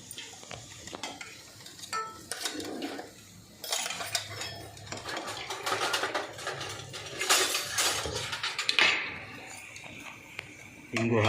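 A pan tempering of cumin, urad dal, chana dal and asafoetida for a Ballari-style sandige gojju is stirred with a spoon, giving irregular scraping and clinking strokes over a light sizzle, close and moderately loud.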